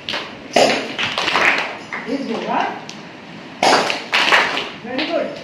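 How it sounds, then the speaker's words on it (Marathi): A daf frame drum is struck in sharp bursts while a group of children claps along in a classroom storytelling and skills session. The hits and claps land close and loud, with voices talking in between. "मी डफली वाजवणार आहे आणि सगळ्यांनी टाळ्या वाजवायच्या"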